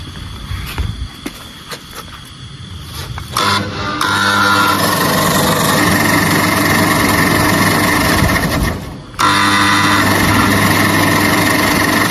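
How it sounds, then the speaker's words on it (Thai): An engine-driven machine that separates ripe palm fruit flesh runs with a steady, loud mechanical drone and vibration, starting up after quieter rattling, briefly cutting out near the end, then resuming at full power. "วันนี้จะมาสาธิตการทำงานของเครื่อง แยกเนื้อตาลสุก"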